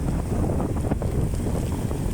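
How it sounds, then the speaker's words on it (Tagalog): Strong monsoon wind blows off a rough sea near a moored fishing boat, roaring hard into the microphone as a steady, loud buffeting rush with bursts of gusting and no clear voices. "malakas yung hangin. Hangin tsaka alon mga idol no."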